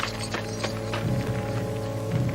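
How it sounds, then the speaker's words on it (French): A horse is led over in a Western setting, hooves clip-clopping in a steady, close rhythm over a low background drone, with no talking. "Y amène un cheval."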